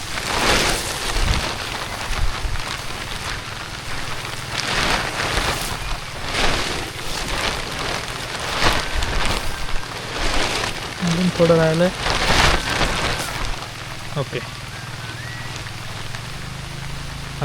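Light drizzle patters steadily outdoors on a farm, a soft continuous hiss broken by bursts of wind buffeting the microphone, while someone speaks briefly partway through.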